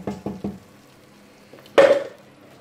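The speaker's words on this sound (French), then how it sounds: "On vient remuer de temps en temps." A spoon stirs beef bourguignon in a pot with three quick scraping knocks in a row. After a short pause, a louder, sharper clank rings out and then fades.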